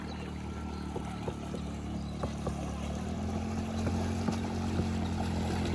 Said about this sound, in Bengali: এই নৌকা দিয়ে আমি বর্তমানে এই মন্দিরের পাশে যাব।